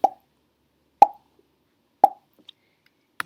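Blackberries drop one by one into a billy can, making three distinct hollow plops about a second apart, followed by a couple of fainter small plinks.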